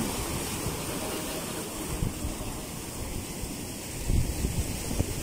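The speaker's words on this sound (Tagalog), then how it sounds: "Galit na galit yung alon talaga dito." Rough surf after Typhoon Egay churns against a beachfront village, a continuous close roar of waves mixed with wind buffeting the microphone, with slightly heavier surges near the end.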